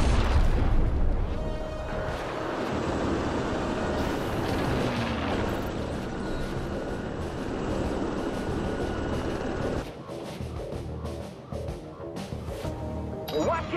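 Explosions rumble through a battle in the video game War 2061, with dense, continuous booms and heavy low-end thunder under a layer of game noise that thins out briefly near the end.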